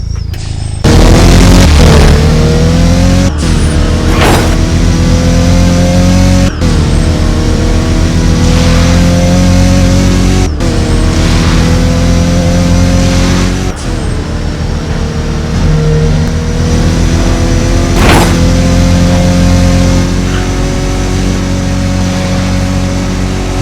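Volkswagen Golf 8 GT380 engine in the Driving Empire video game, revving loudly through repeated climbing pitch sweeps and gear changes, sharp shifts breaking each run, heard alone without talk.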